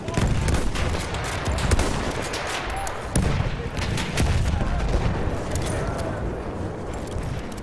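Battlefield 1 combat: continuous close gunfire and a dense wall of battle noise with heavy, booming blasts, including an explosion around the middle, sustained loud throughout.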